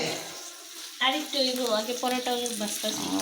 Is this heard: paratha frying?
yes